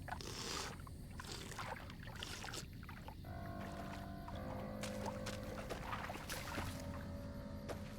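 Water in the Fallout: New Vegas video game, heard as soft liquid sloshing and pouring over faint in-game ambience with a low hum, quiet and steady for several seconds.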